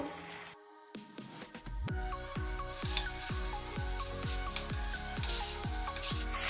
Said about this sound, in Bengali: সামান্য জল দিয়ে আমি মশলাটা আবার কষিয়ে নেব।